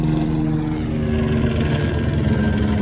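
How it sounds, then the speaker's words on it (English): Continuous rotor and engine drone of a helicopter flying overhead, steady and moderately loud, with no talking. "Here comes a helicopter."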